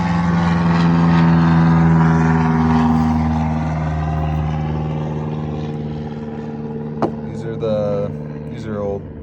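A loud, steady engine drone from an aircraft passing overhead fills the whole stretch, its pitch sagging slowly as it moves off. Brief knocks and squeaks break in near the end.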